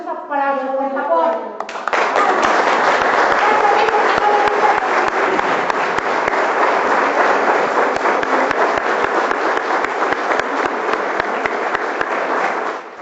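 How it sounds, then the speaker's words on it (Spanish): Warm applause for Maestra Rosaura Hernández fills an event hall, a dense, steady burst of clapping from a large audience that follows a brief spoken appeal and lasts to the end. "démosles un caluroso aplauso, por favor"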